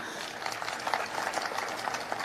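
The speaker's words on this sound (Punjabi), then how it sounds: "ਉਹਨਾਂ ਬੱਚਿਆਂ ਲਈ ਮੈਂ ਇੱਕ ਤੁਹਾਡੇ ਵੱਲੋਂ ਜ਼ੋਰਦਾਰ ਤਾੜੀ ਚਾਹਨਾ" An audience at the inauguration of a government School of Eminence in Chhajli, Punjab, attended by the Chief Minister, applauds steadily throughout in a dense, even wash of clapping, with no talk over it.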